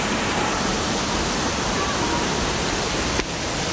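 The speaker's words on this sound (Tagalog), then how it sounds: "kung bakit po tinawag na Lanzones Falls ang talon na makikita natin dito" Lanzones Falls in Siniloan, a waterfall, roars as a steady, dense, full-spectrum wash of falling water close by, unbroken throughout with only a brief dip near the end.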